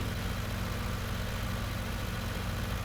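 Tractor engine in the farming game Farming Simulator 19, a steady low idling rumble holding at an even, moderate loudness without a break, with no voices over it.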